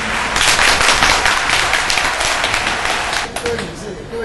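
A crowd at the founding meeting of a charity and trade association claps briefly after a speech, a dense burst of applause that thins out toward the end as a voice begins.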